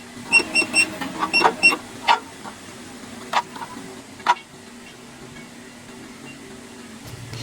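A CUYI LA300T cutting plotter with its blade set deeper cuts through material for a gable box. Short, rhythmic whirring motor bursts and clicks come close up in the first two seconds, then sparse ticks fade into a quiet room.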